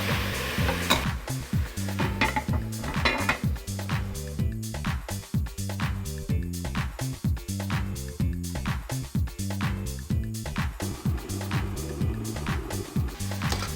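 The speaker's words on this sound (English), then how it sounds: "you're hearing that sizzling sound that it's making" Steady sizzling of pork frying in a pan, with repeated scraping and clinking of a utensil stirring throughout, close and fairly loud.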